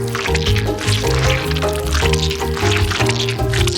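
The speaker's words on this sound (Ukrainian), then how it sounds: "І так, заливаємо наш шоколад у ємність." Melted chocolate is poured into a container, giving a steady close-up liquid gurgle with dripping and squishy splashes throughout.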